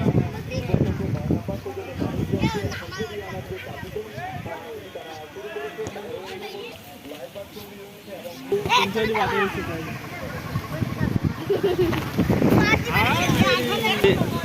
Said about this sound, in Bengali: এই মুহূর্তে বাতাসের গতি বেড়ে যাচ্ছে